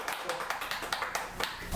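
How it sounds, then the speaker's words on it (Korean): A small studio audience claps a quick, fairly even patter of hand claps to welcome a professor guest onto a Korean talk show fact-checking a nuclear power debate. The clapping is brief and moderately faint, with no one speaking. "박수로 환영해주세요."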